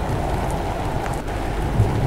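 Acid rain falling in the Roblox video game, a dense, continuous roar of rain with low thunder-like rumbling throughout and no talk.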